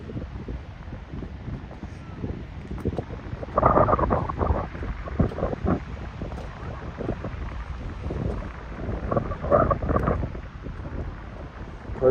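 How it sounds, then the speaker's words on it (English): Wind buffeting a microphone on a walk along the beach between Venice and Santa Monica, producing low rumbling gusts that swell and fade, with bursts of louder blustering around the middle and end. "Pardon the wind."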